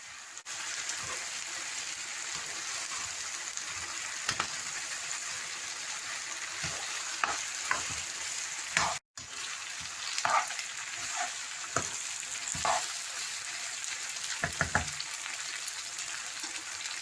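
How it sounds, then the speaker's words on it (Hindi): Chicken macaroni with vegetables frying in a pan over a medium-low flame, with a continuous sizzle and repeated scraping strokes of a spoon stirring throughout, no talking. "मैक्रोनी डाल के हमने मीडियम लो फ्लेम कर देना है।"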